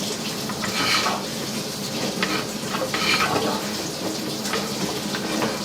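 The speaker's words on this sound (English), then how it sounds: "Can you turn the cold water on in that sink?" Cold water running from a sink tap in an old house, a steady close hiss and splash that holds evenly throughout with slight surges, alone without talk.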